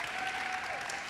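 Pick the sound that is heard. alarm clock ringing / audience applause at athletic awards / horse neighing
audience applause at athletic awards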